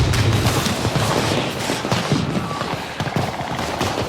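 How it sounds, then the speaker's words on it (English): Firecrackers go off in the video game Dying Light, a rapid, dense string of crackling pops and bangs that runs continuously for about four seconds with no pause. "Let's distract them with firecrackers and make a run for it."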